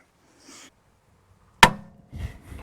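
A breaker bar cracks loose a rusted ball joint on a Land Rover Discovery 3, giving one sharp, loud metallic crack after near silence, followed by brief scraping movement.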